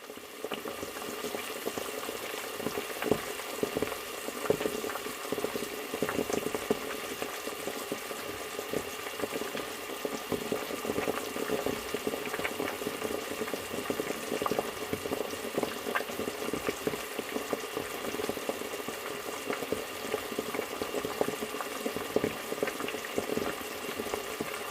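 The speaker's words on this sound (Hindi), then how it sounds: "अच्छी तरह से आपने इसको भूनना है, ऑयल सरफेस पर आ जाए और पानी इसका बिल्कुल खुश्क हो जाए" Tomato and onion masala paste for bhuna gosht sizzles steadily in oil in a pan, a continuous close bubbling hiss with faint scraping, no voices.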